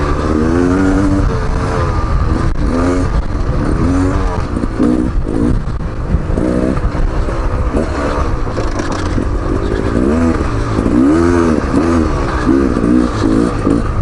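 A 2019 Beta Xtrainer 300 two-stroke dirt bike engine runs continuously and loudly while riding, its pitch rising and falling as it revs through throttle changes, close by with wind-like noise.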